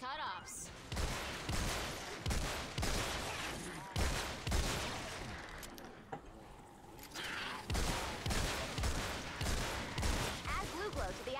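Gunfire in the video game Fortnite comes in dense repeated bursts of loud, close shots with brief gaps between volleys, continuing across the whole stretch.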